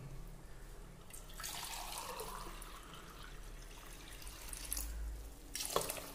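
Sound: water being added to rice in pot

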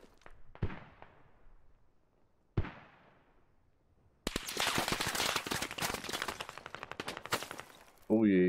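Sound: gunfire in a video game

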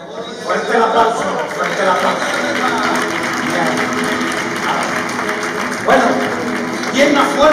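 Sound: audience applause at flamenco show

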